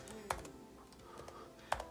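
Keys tap on a Logitech Folio Touch keyboard case, a few quiet clicks with two sharper strikes, close by in a calm room.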